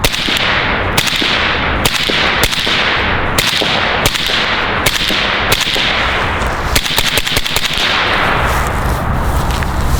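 Sharp, loud gunshots from a Zastava Arms gun fired just off a steel target, about a dozen reports at an irregular pace with a few quick pairs, outdoors and close by.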